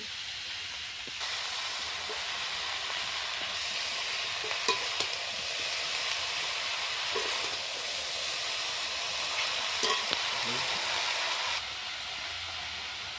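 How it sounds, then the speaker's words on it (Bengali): Chopped spinach sizzles in a hot pan, a steady broad frying hiss with faint stirring scrapes, lasting throughout before easing near the end. "পালং শাক কুচিটা দিয়ে দিচ্ছি"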